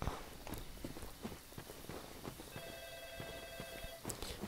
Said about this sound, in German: Och, Telefon. Ruft auch immer zum unpassenden Zeitpunkt an.